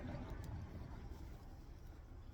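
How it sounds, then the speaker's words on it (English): Steady broadband road traffic rumble from passing cars outside, continuous and moderately loud with no gaps, heard during an outdoor car scratch repair. "you have to excuse the noise, for some reason there's a lot of traffic today"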